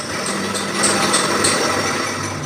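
A metal lathe turns a small steel part for a combine harvester, with the workpiece held in the chuck and supported by a center. A steady close motor whine and cutting hiss carry on throughout with no talk.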